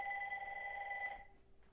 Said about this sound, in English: That's my phone in the background.